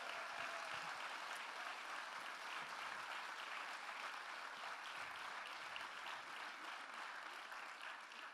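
At a PTB political rally, a large audience applauds a podium of speakers with sustained, even clapping that sounds somewhat distant and fairly quiet, filling the full stretch without talk.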